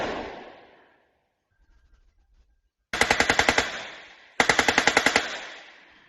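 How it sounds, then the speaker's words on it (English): A gas-operated Rarden cannon on a CVRT armoured vehicle fires: a sharp opening blast fades into a short lull, then two loud, close bursts of rapid, evenly spaced shots ring out one after the other. "And that's the Rarden cannon priming with gas"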